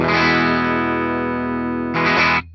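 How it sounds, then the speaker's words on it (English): Gibson ES-Supreme electric guitar played on the bridge pickup through heavy distortion, a loud sustained chord ringing for about two seconds before a brief second strum and cutoff. "Do that same test with our bridge pickup."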